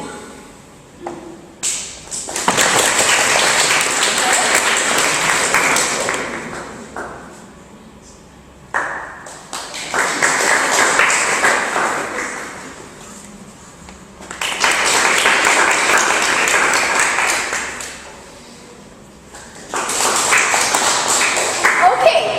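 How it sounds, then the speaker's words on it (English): An audience claps loudly for debate speakers at a public speaking session, in several separate bursts of strong applause divided by quieter pauses, with some talking in the gaps. "the rest of us are going to just clap for the speakers"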